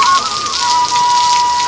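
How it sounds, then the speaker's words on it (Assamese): Steady rainfall with raindrops pattering on a surface, loud and continuous, with a thin sustained whistle-like tone running through it as a sound effect behind a poem recitation. "বৰ্ষাৰ টোপাল"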